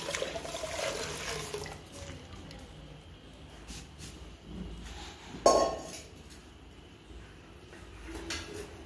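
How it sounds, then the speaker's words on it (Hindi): Milk, over a kilo of it, pours into a pot of strained vermicelli for Eid sheer khurma, a soft liquid splashing and gurgling close by with one sharper clink of the vessel midway. "अब हम इसमें मिला रहे हैं दूध।"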